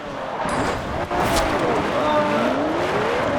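Forza Horizon race car on Xbox 360 drifting with sustained engine roar and a rising tire-squeal tone across the clip, loud and continuous, with a brief dip near the one-second mark.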